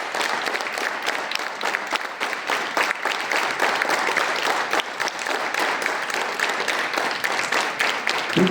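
A group of students claps steadily and loudly together on command at a school awards ceremony, a dense wash of hand claps filling the whole stretch without pause.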